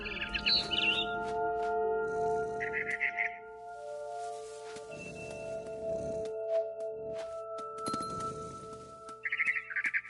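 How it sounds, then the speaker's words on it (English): A barn swallow chirping in What Remains of Edith Finch, short bright twittering calls returning at intervals, clear and fairly close over a soft, sustained musical drone. "Then I heard chirping outside my window. It was a barn swallow going back to her nest."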